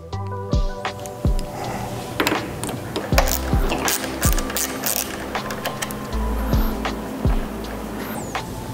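Fill bolt being unscrewed from the brake handlebar master cylinder of a 2023 Volcon Brat, giving a run of sharp metallic ratcheting clicks and taps close by with no talk.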